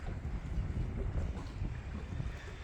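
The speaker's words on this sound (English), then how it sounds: "It's getting windy over here." Hard wind buffets the microphone at a marina where boats are moored in a row, a steady, loud low-frequency rumble and roar that continues without a break and is joined by faint water sounds.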